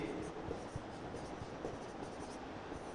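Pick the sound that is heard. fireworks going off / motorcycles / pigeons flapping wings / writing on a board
writing on a board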